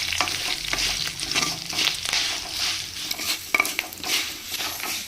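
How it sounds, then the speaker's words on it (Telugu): Curry leaves dry-roast in a pan while being made into a black chili spice powder, giving a close, soft crackling sizzle broken by repeated scraping stirs of a spatula against the metal. "ఇది కరివేపాకు కూడా కొంచెం కొంచెం పొడి పొడిగా అంటే ఏగితే"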